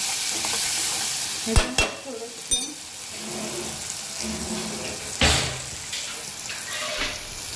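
Prawn masala being stirred in a pan after spices and garam masala go in, with a steady sizzle broken by several sharp scraping clatters of the spoon against the pan, close and fairly loud, no talking.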